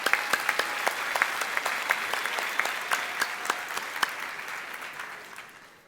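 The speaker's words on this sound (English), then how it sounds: "Let's give our special guest commencement speaker another round of applause." An audience at a graduation commencement ceremony applauds the guest speaker, a full round of clapping with sharp individual claps popping out, gradually fading toward the end.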